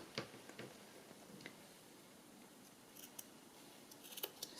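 Scissors snip along the edge of a lace-covered wedding journal cover: a few crisp, close cuts spaced irregularly, ending in a quick cluster of snips, with no talking.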